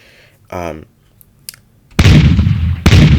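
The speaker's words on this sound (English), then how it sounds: "when a cannon is about to fire, it'll warn you. The cannon fires." A loud cannon blast in the video game Haunted Party erupts with a burst of broadband noise, then a second boom follows soon after, preceded by quieter warning tones.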